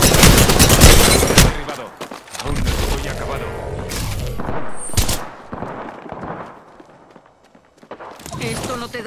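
Rapid gunfire bursts in the video game Apex Legends, loud and dense at first, then scattered shots, a sharp boom and footsteps amid game noise, with a voice speaking over parts of the action.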